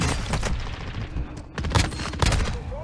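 Rapid bursts of gunfire and explosions rattle loudly in a Gulag shootout in a video game, close and dense with brief gaps between volleys.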